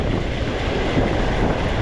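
Steady wind roars and buffets across a rocky shoreline during a fishing session, a loud, close, continuous rush with surf mixed in.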